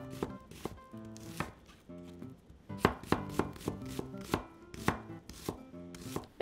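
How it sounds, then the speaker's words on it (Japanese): A knife slices a halved onion thinly on a cutting board in steady, crisp chops, close and clear, with faint tonal background music underneath and no talk. "まずは玉ねぎを切っていきます。"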